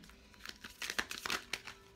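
Cards drawn one by one from a deck, heard as soft, close, crinkly slides and flicks in a loose run of short rustles, fairly faint, with no voices.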